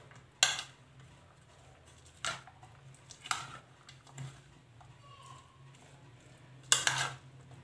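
Chopped onion and boiled chickpeas for chaat are tossed together in a bowl, giving a few sharp spoon-on-bowl clinks spaced several seconds apart over a low steady hum, close and moderately loud.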